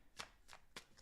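Tarot cards are shuffled by hand in four quick, crisp riffles spaced evenly about a third of a second apart. The sound is faint and close, with no talk.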